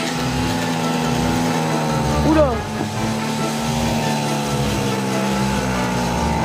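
A friend's moped engine runs steadily while being ridden, a continuous buzzing drone with a brief rising rev partway through, a short exclamation heard over it.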